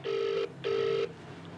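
A telephone rings twice with an electronic tone, two even bursts separated by a short pause, then falls silent with no answer.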